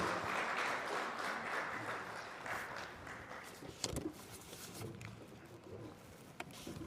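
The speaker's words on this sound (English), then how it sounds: "let's welcome Mr. Kigoro with rounds of applause" Conference attendees at a Pan African Conference clap to welcome a speaker, a soft, distant ripple of applause that fades away, leaving faint cooing pigeons and scattered small knocks.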